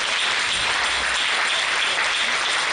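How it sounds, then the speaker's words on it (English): A church congregation at an evening crossover service claps vigorously in a continuous, loud, dense wash of hands with no pauses. "and for Reverend Colin Malupo in a mighty clap offering."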